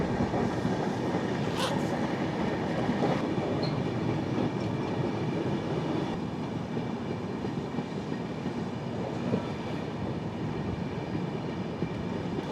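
A red LHB-coach express, the 17040 Vasco da Gama–Secunderabad, runs steadily through the scenic Goa route with a continuous rumble of wheels on track, a clickety rhythm and occasional squeals, heard close and without pause.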